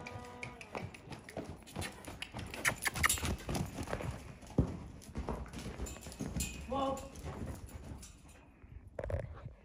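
A horse canters nearby, its hooves drumming in a rapid, uneven clip-clop with loud thuds, while people talk over the footfalls.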